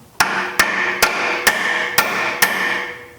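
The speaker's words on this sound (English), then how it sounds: "I was hammering it, I seen it go down." Six sharp, evenly spaced hammer blows strike a part on a Polaris 325 Magnum ATV, each leaving a short metallic ring, loud and close with no talking.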